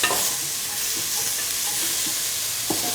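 Potatoes and tomato pieces with salt stirred as they fry in a pan, a constant bright sizzle with a few soft scraping strokes and no talking.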